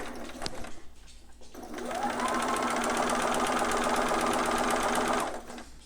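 A sewing machine runs in a fast, steady stitching burst along a newborn romper seam, preceded by a brief quieter moment and a sharp click, then stops near the end; close and loud with no voices.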